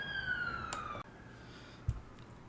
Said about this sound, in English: I live next to a busy road, and occasionally there are sirens.